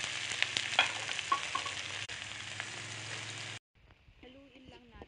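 Chopped onions drop into hot oil with garlic in a pan, bringing a loud broadband sizzle with light clinks for about three and a half seconds before it cuts off to quieter, muffled sound.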